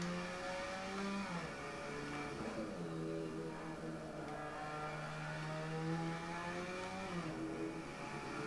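A tuned Mazda RX7 engine in Assetto Corsa on PS5 at the Nordschleife, revving with a steady droning whine that climbs and dips through gear changes, heard alone without speech.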